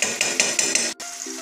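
A spoon stirs chicken tehari with beaten yogurt in a pot, scraping in five regular strokes about a fifth of a second apart, then stops, leaving a soft sizzle.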